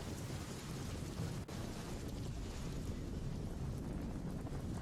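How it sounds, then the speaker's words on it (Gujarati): Dense heavy rain roars steadily over Valsad city, Gujarat, with a low rumbling wash and gusty wind noise, loud and continuous from start to end. "વલસાડ શહેરમાં વહેલી સવારથી જ ભારે વરસાદ છે"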